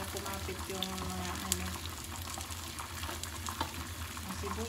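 An egg frying in a pan with onion, tomato and parsley, alongside fish cooked for breakfast, giving a steady broadband sizzle with faint clinks and stirring noises throughout.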